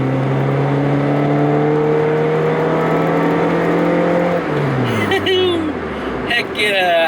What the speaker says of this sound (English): I can finally step on my car again.